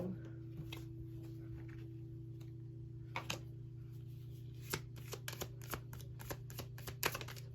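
Tarot cards being shuffled and drawn, a run of crisp flicking snaps and taps that grows busier toward the end over a steady low hum.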